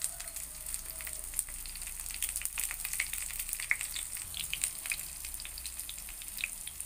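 Wheat paniyaram batter frying in a pan over medium flame, a steady soft sizzle with scattered tiny pops and crackles throughout, close and fairly quiet.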